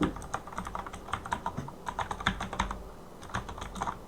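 Keys clack in a steady run of typing nearby on a RAZEAK HUNTER RK-X16 keyboard, with a few heavier space bar presses standing out among the lighter taps.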